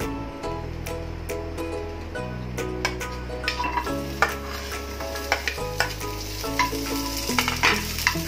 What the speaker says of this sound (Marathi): कांदा थोडासा परतून घेऊ।